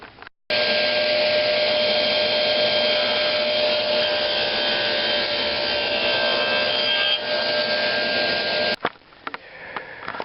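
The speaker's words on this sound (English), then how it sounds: "I'm using a flat tooth rip blade to give me a nice square bottom cut, and it goes like this." A saw with a flat tooth rip blade cuts into a clamped wooden picture frame, a loud, steady whining rasp that starts abruptly, holds for about eight seconds, then cuts off into a few light knocks.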